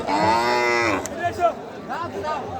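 A pregnant cow at a busy Qurbani cattle market gives one long, close, loud moo, followed by a few shorter, softer lowing sounds, with no one talking.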